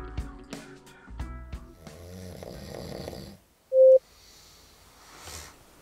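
A man snoring while asleep, several rough rhythmic snores up close, followed by a short loud electronic beep from an anti-snoring earplug gadget and a softer breath.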